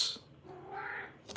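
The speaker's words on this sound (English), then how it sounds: "my cat has to say meow" A pet cat gives a single drawn-out meow, close by and fairly quiet, with a faint click just after it.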